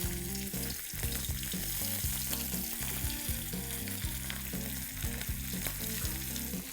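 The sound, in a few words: rava-coated prawns shallow frying in oil on tawa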